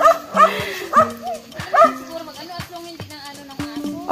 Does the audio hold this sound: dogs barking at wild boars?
yes